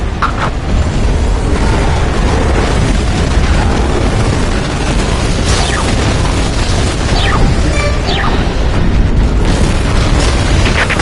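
A copper cannon fires in the Earth Defense Force 6 video game, unleashing a loud, sustained barrage of roaring blasts and booms that fills the whole stretch without a break.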